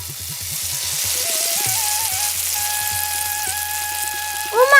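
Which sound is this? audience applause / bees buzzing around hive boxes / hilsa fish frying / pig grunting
hilsa fish frying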